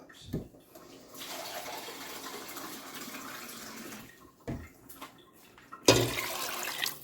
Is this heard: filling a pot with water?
yes